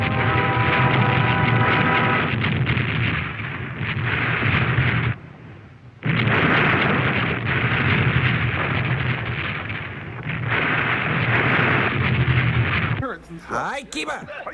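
Explosions and weapon fire from the film Terror Beneath the Sea roar almost without pause in long, loud, booming rumbles, with brief lulls. A voice speaks over the blasts near the end.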